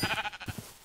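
Sheep in the modded Minecraft game RLCraft give a short, faint wavering bleat, heard alone with no talk.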